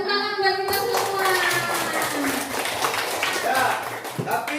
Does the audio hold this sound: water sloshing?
no